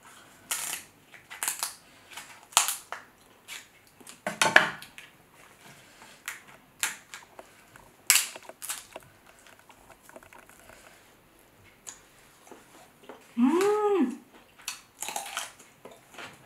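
King crab legs from a seafood boil are cut open up close, giving sporadic sharp cracks, snaps and crunchy shell breaks scattered across quiet pauses, with a short hummed vocal sound near the end.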